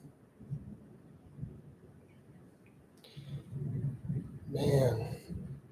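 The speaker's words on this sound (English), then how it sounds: "And yes, it is storming right now. There's a thunderstorm going." A thunderstorm rumbles outside with faint, low rolls of distant thunder that swell toward the end, while a voice talks quietly nearby.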